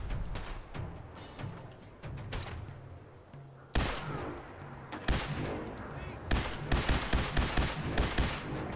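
A gun fires repeatedly in Fallout 4: loud, punchy shots, spaced early on and then a quicker string of sharp bursts near the end, all against a busy game background with no talking.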